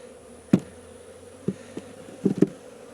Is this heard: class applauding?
no